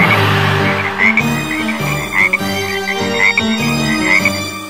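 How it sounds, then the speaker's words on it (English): Cartoon frogs in a Halloween nursery song croak in a rhythmic, repeating pattern, bright and loud over a musical backing, with regular pulses in time with the beat. "It started raining frogs once."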